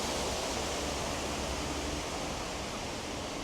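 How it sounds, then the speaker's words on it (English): A small waterfall splashes into a koi pond in the inner courtyard of Longshan Temple in Taipei. The rushing water is continuous and even, with no voices. "Really a nice little waterfall."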